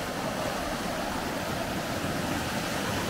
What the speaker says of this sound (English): Look at that water flowing through there.